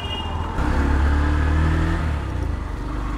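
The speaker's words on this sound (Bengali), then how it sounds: "এক কথায় সাউন্ডটা কিন্তু অস্থির বাইকটার।" A Yamaha FZS V4 motorcycle engine revs up from idle, holds a louder hum for over a second, then settles back down. The sound is close and steady, with no talking.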